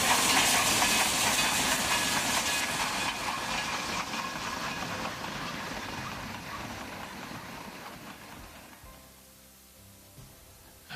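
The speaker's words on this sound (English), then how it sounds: "now this is the train that we're scheduled to ride tomorrow" A steam train rumbles past with heavy hissing steam and rhythmic rail clatter, loud at first and gradually fading into the distance.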